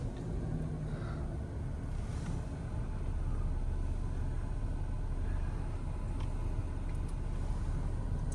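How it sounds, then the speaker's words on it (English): Road traffic passes on a busy Saturday road beside a marina, a steady close rumble of car engines and tyres that stays fairly even throughout with no clear individual pass-bys. "You got to watch yourself on a Saturday on this road because you got a lot of traffic."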